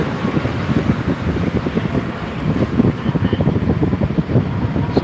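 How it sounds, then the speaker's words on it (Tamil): Wind blows hard and steadily against the microphone on the Kaveri river bridge in Trichy, a loud low rumble with fluttering buffets throughout, no talking. "ஃபுல்லாக ஜில்லுன்னு காற்று வேற நல்லா சூப்பராக அடிக்குது"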